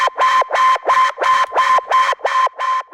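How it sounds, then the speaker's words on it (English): A synth tone pulses in eight even, evenly spaced beeps, bright and buzzy like an alarm, loud and alone. "So it's not even like a melodic synth, it's like an alarm sound"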